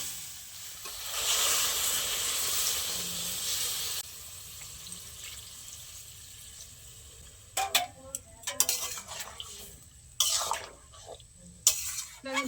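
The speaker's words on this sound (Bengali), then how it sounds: "এবার আমি পরিমাণ মতো জল দিয়ে দেবো।" Water poured into a pan of potato and soybean curry, a steady hissing splash for a few seconds, followed by quieter bubbling and scattered clinks and knocks from the pan.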